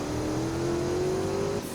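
A Lotus car's small turbo V8 engine in the Greenville video game revs with a steady rising tone, loud and close, then cuts off sharply near the end.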